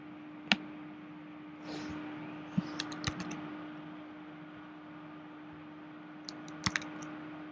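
Keys tapped on a computer keyboard while entering an article title, a few sparse, quiet clicks scattered over a low steady hum with long gaps between them.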